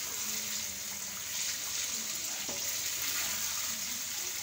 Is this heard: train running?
no